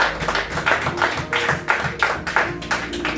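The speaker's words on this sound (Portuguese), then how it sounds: "Aplauda o Senhor mais uma vez." A church congregation applauds with steady rhythmic clapping, the claps falling in a regular beat close and fairly loud.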